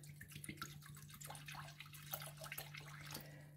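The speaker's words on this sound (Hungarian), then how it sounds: "150 g vizet fogok adni" Water poured onto 50 g of sourdough starter to feed it, a faint uneven trickle with small splashes and drips over a low steady hum, no talking.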